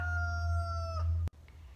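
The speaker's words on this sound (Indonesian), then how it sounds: "ayam masih dengan gagahnya berdiri di atas pagar dan berkokok" Rooster crowing as a sound effect, one loud close cock-a-doodle-doo with a sustained tone that cuts off abruptly, followed by faint background noise.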